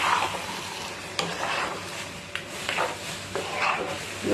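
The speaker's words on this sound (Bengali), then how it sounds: "নাড়াচাড়া করবো।" A spoon scrapes and stirs a Bengali-style egg masala gravy, thinned with a little water, in a pan, giving repeated clinks and sloshing strokes over a soft background sizzle, with no talking.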